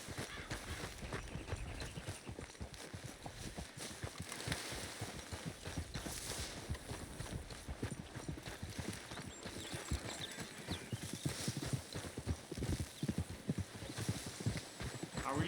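Horses in the video game Red Dead Redemption 2 trotting with steady close clip-clop hoofbeats throughout, with an occasional whinny mixed in.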